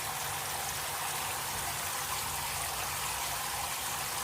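Water pours steadily into a tub while washing wool fleece, making a constant, even rushing stream that stays uniform and moderately quiet from start to finish with no talk.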